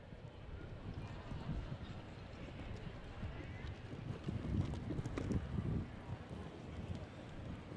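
Horse hooves thud in a rapid, uneven rhythm through a show jumping jump-off round, heard under steady wind noise and crowd-like ambience, with a louder burst of impacts around the middle and a commentator talking over the top.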